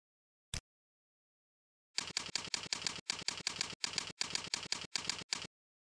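Rapid clatter of computer keyboard keys as an email address is typed, coming in quick bursts with short pauses, close and clear, after a single brief click.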